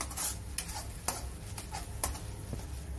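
Ground wet masala roasting in a pan for misal, a faint soft sizzle with rhythmic scraping strokes of a spatula stirring at regular intervals, no talking.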